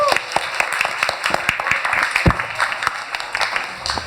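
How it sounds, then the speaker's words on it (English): A crowd at a museum night event applauds a departing host, giving uneven clapping with some distinct nearby claps, while voices talk over it. "let's just give a huge round of applause to Mikey"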